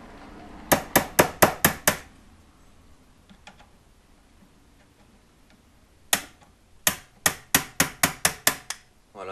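Screwdriver work loosening the fork tubes on a Motoconfort 40V moped: two bursts of rapid, sharp metallic clicks, a quiet stretch with faint taps between them, loud and close.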